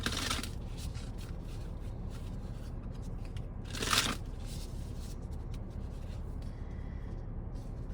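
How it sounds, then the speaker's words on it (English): A deck of tarot cards is shuffled continuously at close range, a soft, steady papery rustle and rub with one brief louder riffle midway and no speech. "And then I'm going to shuffle it some more, and then we're going to see what pops out."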